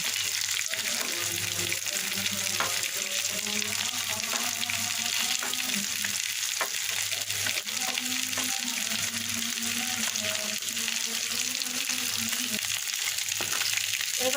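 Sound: frying green chilies and fish in a pan

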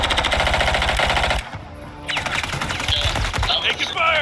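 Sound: gunfire in the Warzone 3.0 video game

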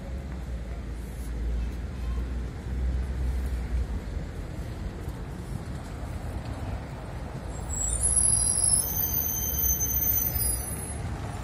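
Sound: tram passing on a street in Lviv

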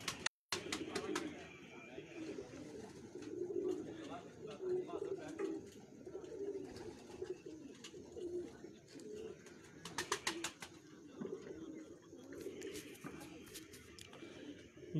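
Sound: pigeons cooing in cages

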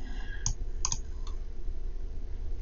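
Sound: computer mouse clicking while editing in Cricut Design Space

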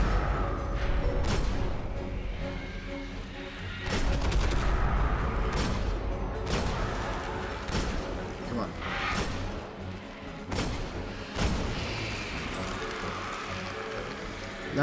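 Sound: gunfire in the video game Destiny

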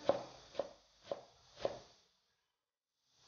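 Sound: chopping carrot into small dice with a knife

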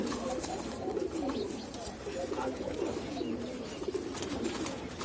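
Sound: pigeons cooing in a pigeon loft

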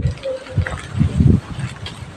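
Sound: water flowing from a garden hose pipe

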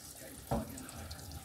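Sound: water running into kitchen sink

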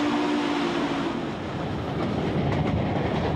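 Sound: early 20th century steam train on scenic railroad

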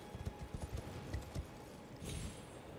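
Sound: horse Torrent's hooves galloping, from video game Elden Ring

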